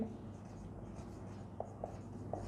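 Pen strokes on paper during a maths lesson, soft and close, with a few short distinct taps standing out over a faint, steady background.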